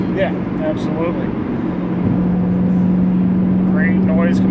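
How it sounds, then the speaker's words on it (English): A 2007 Ford Mustang GT with a 4.6-liter V8 and dual exhaust cruising on the road, its steady low engine drone filling the cabin at a constant pitch with faint background chatter. "Great noise coming from the dual exhaust"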